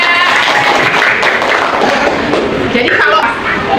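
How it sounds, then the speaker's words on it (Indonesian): Classroom clapping for a student, a dense burst of many hands applauding steadily for a few seconds, with chatter mixed in. "Oke, tepuk tangan buat Yahya."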